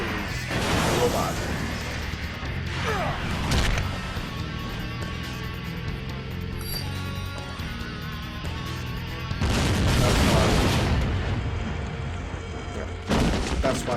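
Explosions burst in the Batman Beyond cartoon, with loud booms and crashing debris arriving in several blasts separated by quieter stretches that carry an underlying soundtrack.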